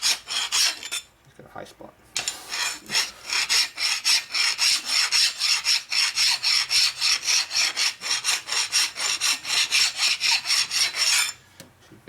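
A big hand file strokes burrs off a Harley shovelhead engine case in a rapid, even run of rasping scrapes, after a short first burst and a pause; a voice speaks briefly.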